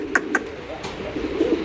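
Pigeons of a new-variety breed, a male and female pair on sale at a market, give several soft low coos and short calls, close by amid steady background murmur.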